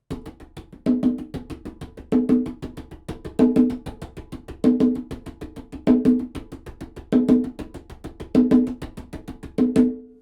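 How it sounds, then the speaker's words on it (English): A conga is struck in a steady repeating bongo rhythm, each bar a cluster of even-volume slaps and open tones, played alone and clearly. "I'm gonna play a version of the Bongo rhythm on Conga"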